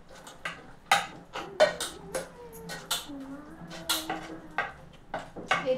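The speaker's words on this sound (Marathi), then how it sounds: "आता आपण यात शिजलेल्या डाळीमध्ये मीठ टाकून घेऊया आणि ग्लासाने एकदम व्यवस्थित अशी" Cooked dal with salt is mashed using a glass, giving a series of close, irregular knocks and clinks against the vessel while a voice talks quietly underneath.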